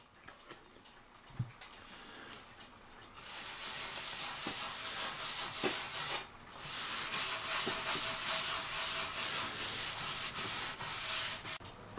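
Wax being rubbed by hand onto the wooden case of a cuckoo clock with dancers, a steady broadband rubbing hiss that builds and continues in long close strokes, with a few faint ticks and knocks.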